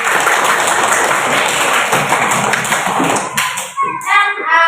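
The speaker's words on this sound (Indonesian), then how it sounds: "Ya, tepuk tangan untuk kita semua" A primary school class claps hands together for everyone in a classroom, a loud busy clatter of children's claps that breaks off near the end into a voice and chatter.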